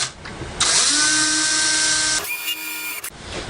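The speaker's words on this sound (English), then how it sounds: "I'm going to drill my holes that the cables go in real quick." A cordless drill boring cable holes for a magnetic clasp upgrade on a custom trash can: a loud, steady high whine for about a second and a half, then a sharper, higher-pitched grinding stretch before it stops.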